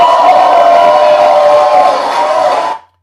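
A large crowd at a political rally cheering and shouting loudly and continuously for a few seconds before cutting off abruptly.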